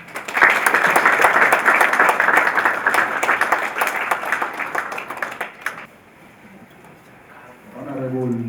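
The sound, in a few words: audience applause welcoming chief guest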